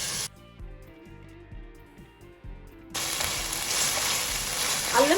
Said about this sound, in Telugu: అల్లం వెల్లుల్లి పేస్ట్ కూడా పచ్చి మొత్తం పోయేంత వరకు బాగా ఎర్రగా ఫ్రై చేసుకోవాలండి.